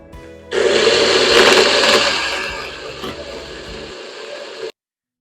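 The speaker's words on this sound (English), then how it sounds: "So now I put everything inside the blender and we're going to blend." Kitchen blender grinding dry ingredients for a crab food mix into powder, a loud steady whirring roar that starts abruptly, eases slightly in pitch and volume, then cuts off cleanly.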